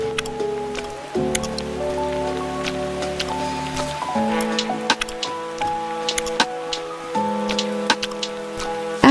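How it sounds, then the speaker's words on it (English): Rain falls steadily outside on a rainy fall day in a Berry Avenue game, with scattered drop ticks over soft layered music tones throughout. "The rain was still falling outside and it just felt like the perfect moment to unwind."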